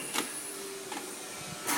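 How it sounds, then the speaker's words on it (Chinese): An inkjet printer runs its automatic print head cleaning cycle, giving a steady faint mechanical whir with a few soft clicks and a short louder burst at the end. "对，现在就自动清洗"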